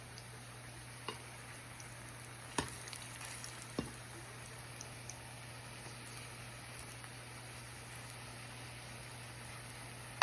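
Plantains frying in a pan give a steady, faint sizzle over a low electrical hum, broken by a few sharp isolated ticks and pops.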